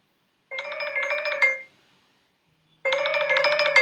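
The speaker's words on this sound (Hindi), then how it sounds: "अजमत भाई फोन कर रहे हैं।" A phone rings with an incoming call, two clear electronic ringtone bursts separated by a short pause, close and loud with no talking.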